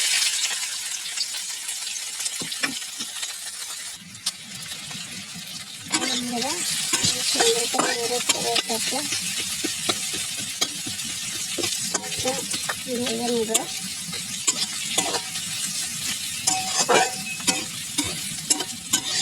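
Chopped onion and green chilies sizzle in a pan for a Bengali dudh kochu and tilapia dish, with a constant frying hiss and scraping stirs, a voice talking faintly in places.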